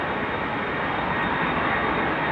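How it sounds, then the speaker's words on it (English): A KLM Embraer E195-E2 jet airliner on approach into Amsterdam roars loudly and continuously, a broad steady engine rush filling the air without any voices. "Next up will be 24 Tango, which is a KLM E195 E2 coming in from Copenhagen"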